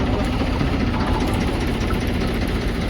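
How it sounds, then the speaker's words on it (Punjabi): A tractor engine drones and rumbles without pause, a low idling throb that stays loud and close the whole time. "ਇਹ ਟਰੈਕਟਰ ਚੱਲ ਰਹੇ ਨੇ ਪੂਰੇ"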